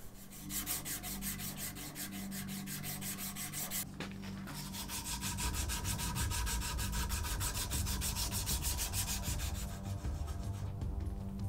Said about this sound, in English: the final hand sanding just before I'm done